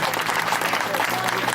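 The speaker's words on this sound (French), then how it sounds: "On applaudit." Audience applause at an end-of-year teachers' celebration in Bouaké, a brief burst of steady, fairly close clapping filling the moment with a little crowd murmur.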